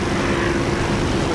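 Steady propeller aircraft engine drone in the DCS flight simulator game, a dense continuous hum holding a constant pitch throughout, close and fairly loud, with no talking.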